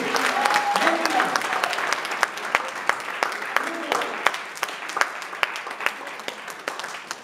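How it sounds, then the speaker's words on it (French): Congregation at a healing service applauding the Lord, a loud dense round of clapping that thins into scattered sharp individual claps, with voices and brief singing or talk over the start. "On applaudit le Seigneur"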